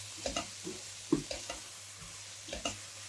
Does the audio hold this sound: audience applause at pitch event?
no